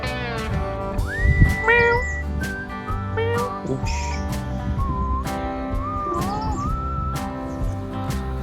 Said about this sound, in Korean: 고양이가 너무 귀여워갖고